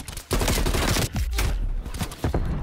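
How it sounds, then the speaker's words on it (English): Rapid gunfire from a Call of Duty Black Ops Cold War match on Nuketown, with dense bursts from several weapons close and loud, separated by brief gaps, with no speech. "Jameen shooting me from the back. Tape shooting me from the front."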